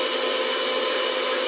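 Sweet potato rubbed against a kitchen grater gives a short, steady, dense rasping hiss, close and continuous without a break.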